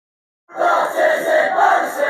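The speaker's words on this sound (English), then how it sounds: "it's actually just a recording of a bunch of people in a stadium chanting a cheer" A stadium crowd of many voices chants a cheer together, like supporters at a European soccer match, starting abruptly after a short silence and holding as a loud, sustained, rhythmic roar.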